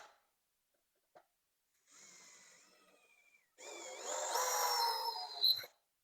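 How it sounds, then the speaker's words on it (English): A 5 mm metal drill bit boring holes into a Topcat catamaran mast, heard as a faint brief whir, a pause, then a louder, longer high-pitched drilling burst that ends with a short clunk. "you grab a 5mm metal drill bit and carefully make your holes"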